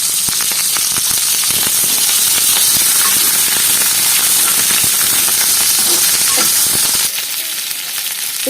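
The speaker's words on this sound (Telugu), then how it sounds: "ఇప్పుడు కరివేపాకు వేస్తున్నాను." Curry leaves drop into hot oil with onion and green chilli pieces, bursting into a loud, crackling sizzle with sharp pops that carries on steadily and eases off slightly at the end.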